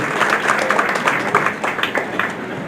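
A church congregation claps and applauds to welcome the pastor to the pulpit, a dense, lively wash of hand claps filling the room steadily.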